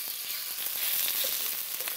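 Chicken pieces dropped into a hot, oiled wok, giving a loud, steady close-up sizzle and crackle of frying that holds without pause.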